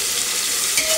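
Tomato pieces sautéing in a hot pan with curry leaves, a steady close sizzle and frying hiss throughout the short moment, with a slight stir toward the end.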